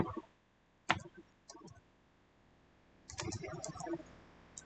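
Typing on a computer keyboard while writing code, a few quiet scattered key clicks followed by a short run of faster taps, close and soft, with no talking.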